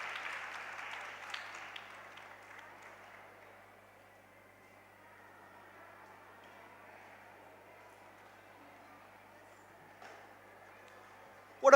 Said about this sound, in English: It deserves a huge round of applause.